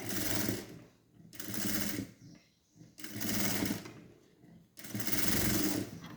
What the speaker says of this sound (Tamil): அதனால தான் லாங் ஸ்டிச் போடுறேன்